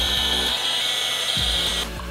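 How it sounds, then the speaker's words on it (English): A heat gun blows hot air to shrink heat-shrink tubing over a wire, giving a steady close whine and rush that stops abruptly near the end, no talk. "I'm going to use a heat gun to shrink that down"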